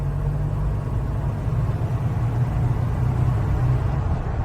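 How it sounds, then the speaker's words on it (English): A 1981 Chevrolet Corvette's 350 small-block V8 runs at a steady idle, a smooth, even low rumble heard close up with no voices. "you can hear there's no misses in the engine"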